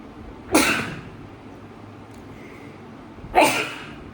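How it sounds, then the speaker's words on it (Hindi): Two separate sneezes ring out loud and close, roughly three seconds apart, each a sharp burst that quickly fades, with quiet room tone between them. "वीडियो के बीच में छींक दिया"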